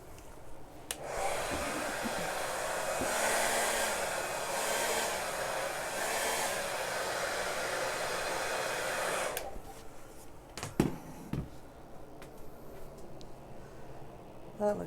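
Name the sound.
blowing air over an acrylic paint pour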